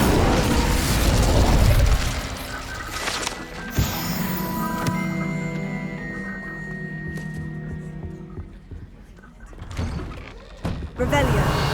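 In Hogwarts Legacy, an Incendio fire spell goes off with a loud whooshing burst, followed by a ringing, tonal magical shimmer and mechanical clatter, then a quieter lull and a sudden crackle near the end, mixed with game sounds.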